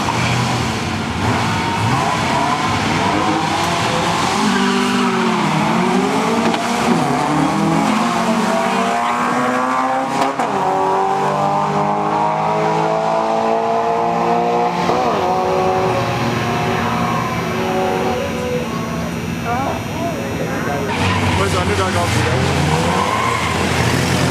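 Neon SRT-4 import cars drag racing down the strip, engines revving and climbing through gears with tires squealing, all continuous and loud under an announcer's commentary over the track PA.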